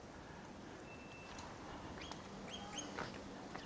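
Birds chirp and call in short, scattered bursts along a forest walkway in a quiet nature reserve, fairly distant over a soft steady background hush.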